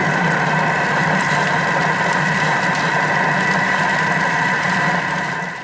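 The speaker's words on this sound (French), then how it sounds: "Je mets 1 minute et je mets vitesse 4. Donc, ça va mixer." A Thermomix blends green olive tapenade with lemon at speed 4, giving a steady, loud motor whir with a constant hum that runs evenly throughout and fades slightly at the very end.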